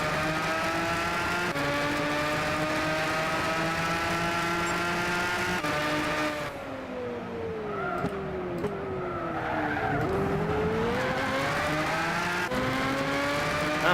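A race car screams around a track, its engine holding a loud steady harmonic drone that dips and climbs as it brakes and powers through corners, with tire skids in the middle stretch and no voices.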